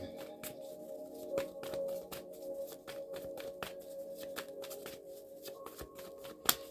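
Tarot cards are shuffled by hand, giving a quick series of crisp riffling snaps and flutters at close range with no talking, finishing on one sharp slap.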